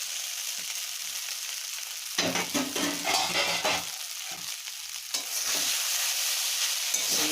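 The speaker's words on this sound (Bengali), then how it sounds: "এইবার নাড়তে থাকবেন" Chow mein is stirred in a frying pan over a steady hiss and sizzle, with bursts of tossing and scraping rising and falling in two rounds, close and loud.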